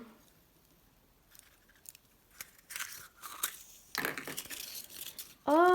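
Crinkly wrapping on a surprise egg is torn open in close, irregular bursts of crackling and ripping that grow louder toward the end.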